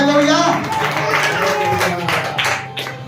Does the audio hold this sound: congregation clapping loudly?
yes